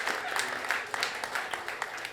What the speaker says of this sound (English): I think they all deserve another round of applause.